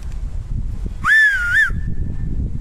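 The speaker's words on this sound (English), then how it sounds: "if you want to learn how to whistle like this" A single clear human whistle, a sustained rising then falling tone lasting about half a second, sounding close over faint background noise.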